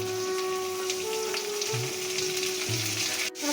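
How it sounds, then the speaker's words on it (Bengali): Chopped onion, chili and tomato fry in oil for dal fry, a steady close sizzle with soft popping and a faint tonal hum beneath, interrupted briefly near the end, with no speech. "পেঁয়াজটা আমি লাল লাল করে ভেজে নেব।"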